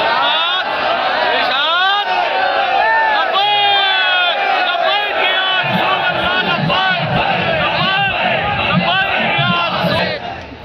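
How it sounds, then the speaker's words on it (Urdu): A large crowd at the Pakistan Bachao march chants religious slogans in unison: many loud, overlapping voices with rising shouted calls, sustained and close throughout. "کیا اس کی زکوٰۃ کے طور پر یا رسول اللہ کے نعرے نہیں سنوا سکتے؟"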